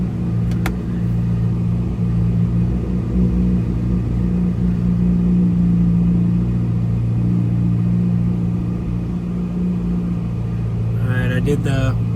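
A Corvette C8 Z06 engine with an aftermarket throttle body runs steadily at close range, a continuous loud low rumble with a faint rise near the end as it begins to rev.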